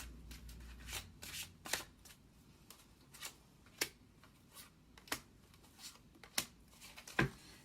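A tarot deck is shuffled by hand, producing soft, repeated riffling and tapping of cards at close range, quiet and fairly steady.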